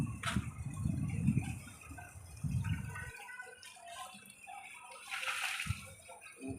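Water poured onto a lemon tree in a garden in the afternoon, a splashing, gurgling flow that runs loudly for the first three seconds, pauses, then returns briefly near the end.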